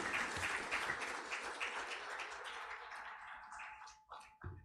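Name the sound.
audience applause for the Minister of Finance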